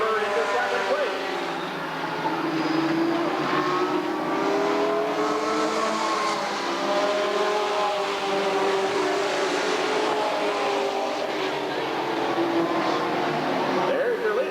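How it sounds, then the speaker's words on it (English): Sportsman race cars running nose to tail at Redwood Acres Raceway, engines roaring and revving loudly and continuously as the pack passes, with an announcer talking over the noise. "And those cars running nose to tail now."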